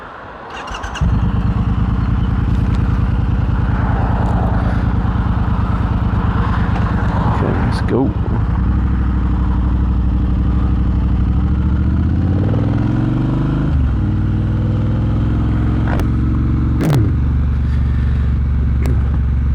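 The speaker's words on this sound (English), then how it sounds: "The sound of this bike is absolutely glorious." Triumph Bobber 1200 motorcycle, a 2022 model fitted with slip-on exhausts, starts and settles into a deep, steady engine rumble that stays loud and close throughout, with a few revs and shifts in pitch, and a brief voice at the start.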